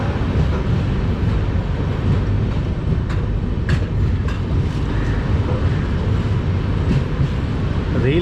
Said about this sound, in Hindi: तो चलिए देखते हैं कि जो ट्रेन का एक्सेलरेशन है वो कैसा है, मतलब कितने लिए ट्रेन जो है वो स्पीड पकड़ती है।